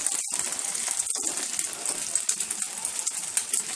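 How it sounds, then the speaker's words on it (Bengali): Soybean oil poured beside a frying paratha sizzles steadily and close, with a bright crackling hiss and a few sharper pops. "এখন আমি সাইড থেকে কিছু সয়াবিন তেল দিয়ে দিব"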